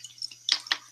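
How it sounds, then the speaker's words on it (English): A small indoor water fountain trickles softly, with two brief splashy drips standing out against a faint low hum in a quiet room. "So that is my little water fountain. It's super nice, super relaxing."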